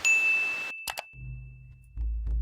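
A notification bell ding sound effect strikes with a bright, sustained ring. A couple of quick metallic clicks follow, then low rumbling thuds as it fades.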